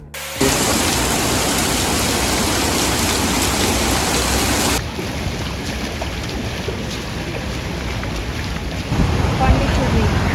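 Heavy rain pours down in Pondicherry in a loud, dense, unbroken hiss, shifting slightly in tone midway but never letting up.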